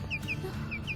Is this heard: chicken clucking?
yes